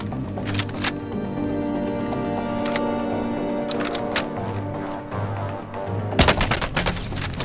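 Video game gunfire with sniping in a quads team match: bursts of shots crackle through a steady battle backdrop, with a sharp cluster of loud reports near the end.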